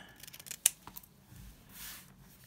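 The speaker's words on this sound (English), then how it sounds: "I'm going to trim these down a little." Scissors trimming paper card embellishments, one sharp snip and a few softer cutting and rustling sounds, close and quiet.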